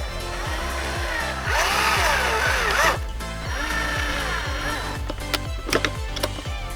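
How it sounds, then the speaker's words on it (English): A power drill whirs up and down in bursts, running hard through material, with repeated low rhythmic thumps and some clicks near the end. "So just gonna drill two holes and put the nuts and the bolts."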